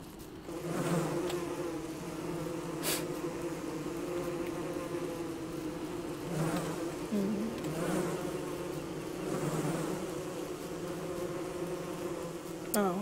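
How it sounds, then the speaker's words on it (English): Killer bees buzzing in Don't Starve Together on a large killer bee island, a steady insect drone hanging over the whole stretch with swarming swells and a few sharper buzzes passing close. "This is a large killer bee island, my goodness."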